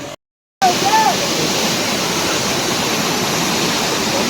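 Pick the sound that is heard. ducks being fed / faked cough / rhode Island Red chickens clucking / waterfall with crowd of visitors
waterfall with crowd of visitors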